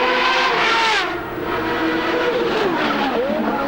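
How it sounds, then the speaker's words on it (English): An Indy race car screams at high revs during the 1994 Australian Grand Prix street race, its pitch dipping with a downshift around one second and then climbing again through repeated gear changes, loud and sustained with no talk. "Car certainly sounds wonderful"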